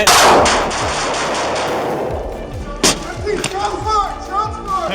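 Loud gunfire cracks out during a police confrontation, a heavy blast followed by another sharp shot, with echoes and commotion ringing afterward.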